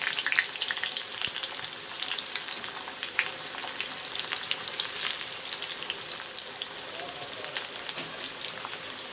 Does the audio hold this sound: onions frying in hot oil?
yes